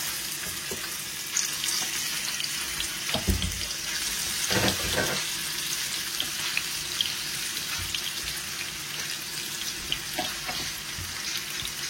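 Rohu fish fries in hot oil with a continuous close sizzle and crackle, punctuated by a few clattering stirring or utensil knocks.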